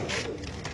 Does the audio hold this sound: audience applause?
no